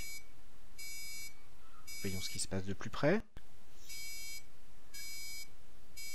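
Repeated electronic beeping of a distance-sensor reversing alarm in evenly spaced bursts, briefly joined by someone speaking and a sharp relay click, then the beeps continue.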